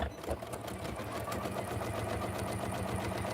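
A sewing machine stitches across a quilt-as-you-go block, its needle hammering in a fast, even mechanical rhythm close by, steady for the whole stretch.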